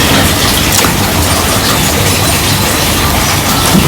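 Heavy rain pours down steadily while people shelter from it, a loud, dense, continuous hiss that fills the whole stretch with no voices.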